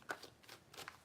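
Quiet, close riffling of tarot cards being shuffled, a few soft papery bursts in quick succession.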